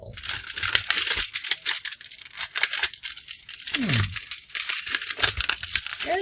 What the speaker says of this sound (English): Let me cut this side over here and see if I can pull it from this side